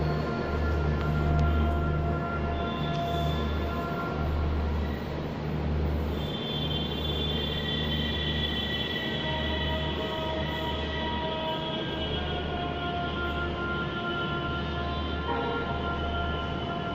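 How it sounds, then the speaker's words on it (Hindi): A Jaipur Metro train rolls past with a sustained low rumble and steady whine, faint squeals and tonal hums layered over it for the whole stretch. "Jaipur metro train."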